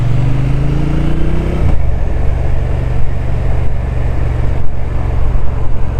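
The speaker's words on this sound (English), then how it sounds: "my view on this first ride out on this RS1200 Triumph" A Triumph RS1200 Speed Twin motorcycle engine, a 2025 model, rises briefly in pitch, then drops back to a loud, steady, close rumbling idle with no talk over it.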